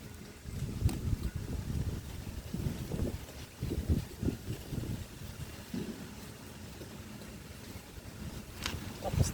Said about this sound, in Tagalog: Bumabalik na naman dito yung malakas na hangin sa amin mga ka-garden.